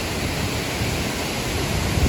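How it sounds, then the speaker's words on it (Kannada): Kithawad waterfall in full flow, a loud, steady wash of rushing water that fills the whole short stretch without a break. "ನೀರು ನೋಡ್ರಿ ಮಸ್ತ್ ಬಂದೈತಿ."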